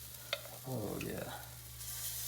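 Atayef pancake batter cooks in a hot pan with a soft, close sizzle and a few light utensil clicks over a steady low background hum for a couple of seconds.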